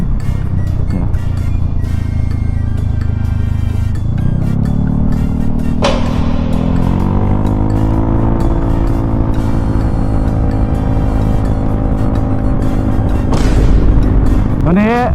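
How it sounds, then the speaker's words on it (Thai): A big motorbike revs hard to warm its tires, the engine climbing in pitch through loud sustained pulls with a sharp rise near the end, close and dominant over the background. "ต้องวอร์มยางก่อนนะครับ"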